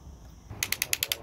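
A ratchet tightens a screw with six quick, evenly spaced metallic clicks after a brief quiet moment, close and clear.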